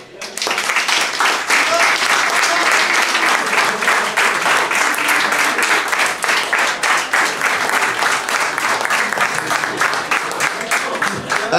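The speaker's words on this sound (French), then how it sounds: "On peut l'applaudir bien fort" An audience claps loudly and steadily for a contestant at a results ceremony, sustained dense applause from a crowd that carries on for the whole stretch.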